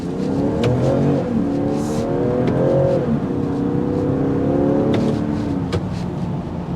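A 2024 Land Rover Defender 110 SE xDynamic with an inline six accelerates on a multi-lane road, its steady engine note rising in pitch across shifts with continuous road and wind noise from inside the cabin.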